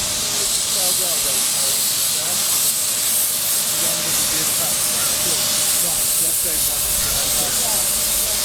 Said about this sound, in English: a view of the engine shed and one of the steam engines